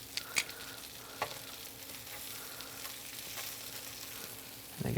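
Chicken wings fry in a pan and are flipped over, giving a continuous gentle sizzle with a few light clicks and taps from the utensil, then a louder clatter at the very end.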